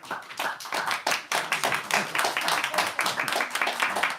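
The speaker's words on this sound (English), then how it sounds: "Can we clap now?" Small group clapping at a home concert, a dense run of close, uneven handclaps lasting the whole stretch with no talk over it.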